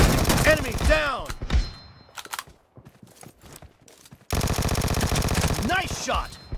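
A Vector submachine gun in PUBG Mobile fires in fast bursts, loud and close, with a pause of scattered quieter shots before another long sustained burst, while a game voice speaks over it.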